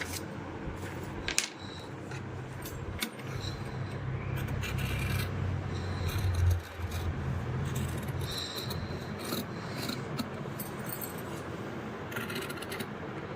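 Scissors cut through blouse fabric for a katori blouse, producing a steady, close rasping and rubbing sound broken by a few sharp clicks as the blades close.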